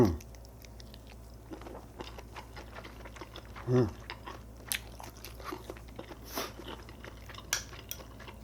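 Close-up eating of steamed whole squid and instant ramen: soft chewing and slurping with occasional crunchy bites and faint utensil clicks, and a voice speaks briefly.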